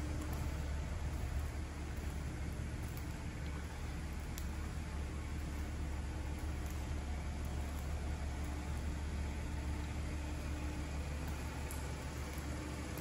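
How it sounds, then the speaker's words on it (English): A 2014 Audi Q5 S-Line engine idles smoothly and quietly, a steady low hum with a soft hiss on top that holds evenly throughout with no revving. "Again, this vehicle is running. Very smooth, quiet engine."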